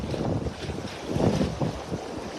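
Strong wind roars across a fishing boat at sea during net fishing, a steady loud rushing buffet on the microphone with gusty surges and wave wash underneath.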